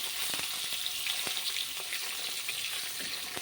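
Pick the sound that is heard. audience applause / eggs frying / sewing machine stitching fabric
eggs frying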